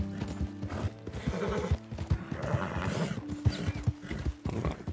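A horse gallops in Red Dead Redemption 2, its hooves clip-clopping in a steady, close rhythm, with a whinny and some faint mechanical clicking mixed in.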